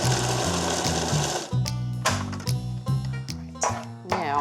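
Lamb and oregano are chopped together in a food processor, which gives a loud, steady whirring drone that breaks into a few short pulsed bursts, with no talking.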